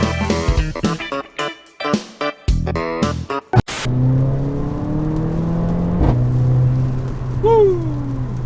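A Mercedes A45 AMG drives along, its engine humming steadily near and loud after a burst of choppy, intermittent sounds at the start, with a rising whine near the end.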